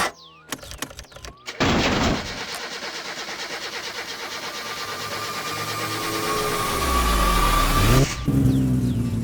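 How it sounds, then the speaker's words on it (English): The Satsuma car's engine in the video game My Summer Car cranks with a few sharp clicks, then catches and settles into a loud, steady idle that rises slightly before a brief change near the end. "The Satsuma is now running"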